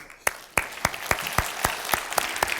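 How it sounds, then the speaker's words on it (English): Sparse, evenly spaced claps ring out at a France country session of the Arctic Circle 2014 conference, roughly ten crisp hand strikes in a steady rhythm, sounding like only a few people applauding the speakers. "they deserve our applause again"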